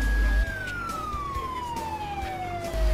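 A video game police car siren wails in a long, steady tone that slowly glides downward, with a low rumble of traffic underneath, as the patrol car passes a stadium.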